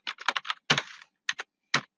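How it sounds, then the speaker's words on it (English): Fingers tap a computer keyboard in short, close, crisp bursts: a quick run of keystrokes, a longer press, then a few isolated taps with brief pauses, heard alone in a quiet room. "if I type a title"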